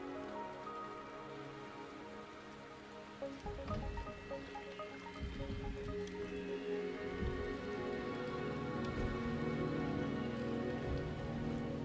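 Steady rain falls across an outdoor scene in Wuthering Waves, a continuous hiss of drops on surfaces that thickens after a few seconds, with a soft musical score underneath and no voices.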